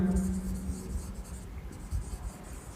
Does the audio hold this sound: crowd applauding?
no